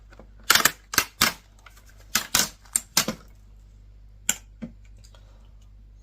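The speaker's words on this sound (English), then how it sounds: "we should just be able to lift this plastic surround out now." Plastic surround being lifted out of a Samsung laptop, a series of sharp plastic clicks and snaps in irregular bursts, close up against a faint low hum, no talk.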